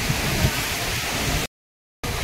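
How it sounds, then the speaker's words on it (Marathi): A steady, hissing wash of light rain and a small trickling waterfall at Kanheri Caves fills the air close by, cutting to brief silence before resuming. "थोडा थोडा पाऊस पडतोय"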